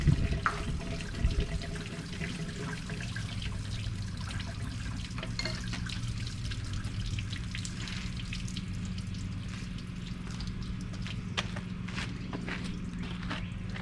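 Water runs steadily from a tap, a constant close hiss and splash with occasional drips and clinks, no voices.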